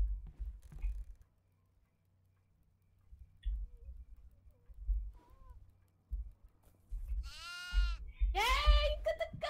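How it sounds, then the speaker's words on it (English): A goat in the horror video game Devour bleats in two loud, wavering calls near the end, after sparse game clicks and low rumbling. A player talks in the background. "I think we may have to shoo it back to the cage. Goat! It's running."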